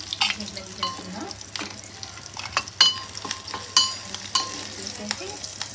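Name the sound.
prawns frying in a pan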